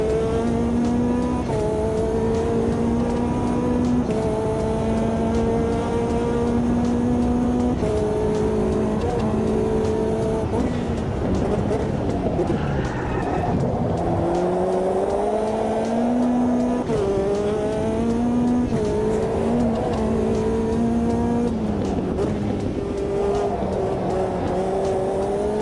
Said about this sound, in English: Trying to keep that turbo singing.